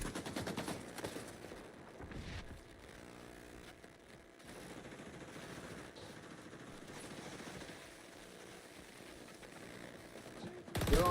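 Gunfire from a gun in a shooter video game, fairly quiet automatic bursts and scattered shots over a steady game-noise background, with brief voice lines mixed in.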